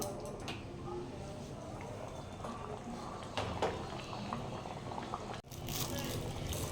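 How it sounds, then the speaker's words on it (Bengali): Dhoka curry, a Bengali lentil-cake dish, bubbles in a pot with a steady, soft liquid simmer that runs throughout, with a brief dip near the end. "এবার আমি এটাকে আরো পাঁচ মিনিটের মতন ফুটিয়ে নেবো"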